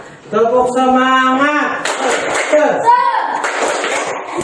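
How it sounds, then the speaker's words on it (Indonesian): A classroom of students performing the rhythmic 'tepuk semangat' clapping routine: loud chanted voices alternate with sharp, patterned claps, near and lively. "Ayo kita tepuk semangat."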